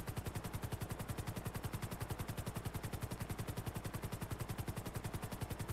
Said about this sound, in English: This helicopter is really loud.